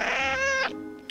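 A cat gives a single loud, close meow that rises and falls over about half a second, followed by quiet.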